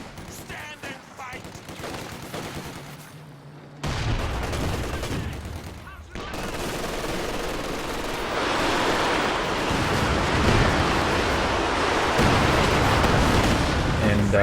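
Battle sounds from the video game Company of Heroes 2: dense, rumbling gunfire and explosive mortar blasts roll on continuously, loud and layered, with a voice talking over parts of it.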